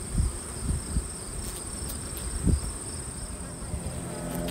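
Honeybees buzzing on a hive frame, a steady faint hum with a low rumble of handling knocks, close by and without talk.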